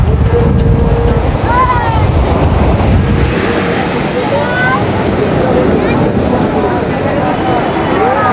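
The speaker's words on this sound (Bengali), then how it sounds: "আবার দেখুন সমুদ্রের গর্জন দেখতে পাচ্ছি" Sea waves roll in on Old Digha beach in the late afternoon, a loud continuous roar and wash with heavy wind buffeting and a voice talking over it.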